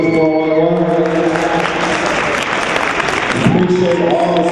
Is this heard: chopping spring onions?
no